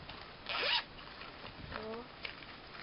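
A zipper on a plain black Watson's bag zips open in one quick, bright rasp near the start, followed by soft handling rustles and a voice speaking quietly.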